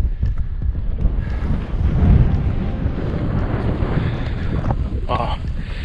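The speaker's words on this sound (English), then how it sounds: "Wow, it's so windy." Strong desert wind in the Karakalpakstan wilderness of Uzbekistan buffets the microphone in loud, uneven gusts that swell and ease throughout.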